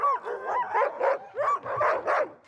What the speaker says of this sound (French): Dave, tes chiens sont vraiment beaux, mais c'est pas des huskies.